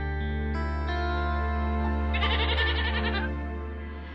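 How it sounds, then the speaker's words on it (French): A goat bleats in a long, loud, wavering cry held for a few seconds, close and alone, with a steady tonal hum running under it. "Qu'est-ce qui arrive à cette chèvre?"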